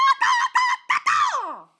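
A person imitates a honking bird call, likely a goose, in five loud, close bursts with short gaps, the last drawn out and falling away.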